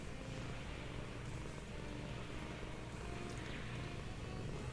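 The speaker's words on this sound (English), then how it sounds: "I apologize for any purring noises you may hear. I have yet another loudish cat on my lap." A cat purring on a lap, a low continuous rumbling close to the microphone, steady and fairly faint throughout with no voices.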